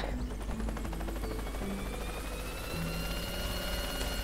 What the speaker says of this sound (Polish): Bierz ten helikopter.